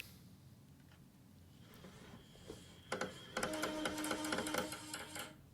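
A game console struggles to read a disc, giving a rapid mechanical chatter and whirring like a faulty printer job, rising loud after a quieter start and continuing steadily to the end with no talk.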